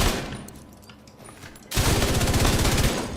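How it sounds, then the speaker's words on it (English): Sustained automatic fire from the Iron Lung, an exotic light machine gun in a looter-shooter game. A quieter stretch gives way to a loud, continuous stream of rounds that runs to the end. "So let's see what this Iron Lung can do."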